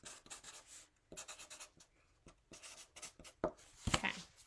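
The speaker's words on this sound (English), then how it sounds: "let me write your guys' names down" A pen scratching names onto paper at a resin crafting table, quick irregular strokes and taps in short bursts with brief pauses, close and fairly soft.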